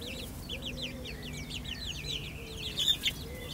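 Chickens and chicks at a backyard coop in the Low Countries cluck and peep in soft, repeated chirps, with a few sharper, louder calls near the end and faint background noise.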